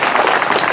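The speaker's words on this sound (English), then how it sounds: "Applaud that" A live audience at a comedy poetry show applauds, steady dense clapping that fills the whole short moment at close, loud level.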